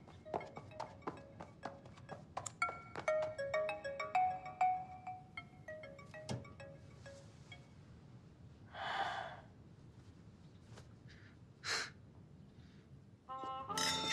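A mobile phone rings with a melodic electronic ringtone that repeats for several seconds, then stops, leaving quiet breaths and gasps close by.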